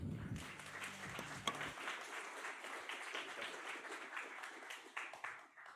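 A crowd claps for the teams at a university game jam presentation event. A brief low voice fades at the start, then dense, even applause continues steadily at moderate volume to the end.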